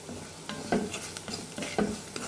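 Turmeric powder and salt sautéed in a pan: a low sizzle under a few rhythmic spoon strokes scraping across the pan, near and moderately quiet, with no speech.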